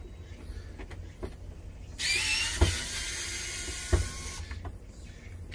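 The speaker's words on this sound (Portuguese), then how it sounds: "O que vamos fazer agora é remover um, dois, três, quatro, cinco, seis parafusos." An electric screwdriver whirs for about two seconds as it backs out screws from a Philips air fryer, with a couple of sharp clicks and faint handling noises before and after.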